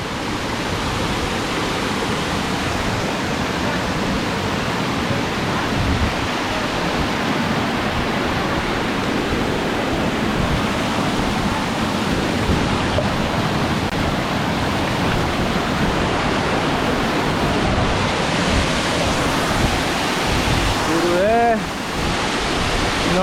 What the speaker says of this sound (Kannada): ನೋಡಿ, ತೀರಾ ಕ್ಲೋಸ್ ಅಪ್ ಕೆಳಗಡೆನೇ ನಿಂತಿದ್ದೀನಿ, ಫಾಲ್ಸ್ ಕೆಳಗಡೆ.